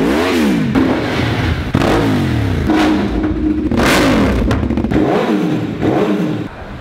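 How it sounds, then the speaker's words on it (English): A motor scooter's small engine revs repeatedly nearby, its pitch rising and falling in several quick surges over a steady idle. "it's time to hear some motorcycle sound."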